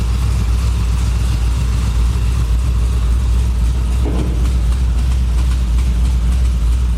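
A GMC truck engine idling after a cold start, a steady loud low rumble that holds constant throughout, with no voices.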